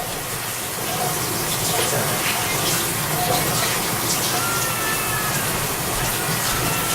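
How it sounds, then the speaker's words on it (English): Tap water runs over cilantro being rinsed, a steady broadband splash that swells slightly after the first second and keeps going evenly, close and fairly loud, with nobody talking. "we're going to go back and rinse the cilantro again"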